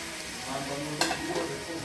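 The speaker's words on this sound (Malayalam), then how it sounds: "ഇത് നമുക്ക് നന്നായി വഴറ്റിയെടുക്കണം" Three finely chopped tomatoes sauté and sizzle in hot oil in a pan for chicken biryani, with a steady close frying hiss and the scrape of stirring.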